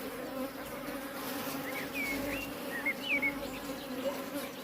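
Honey bees drone steadily around a beehive at close range, a dense continuous buzz with individual bees whining past now and then.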